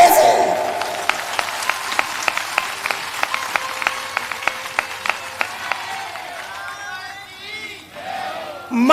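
Satsang gathering where a single person claps in a steady, evenly spaced rhythm of about a dozen sharp claps over a crowd murmur, then voices and cheering take over near the end.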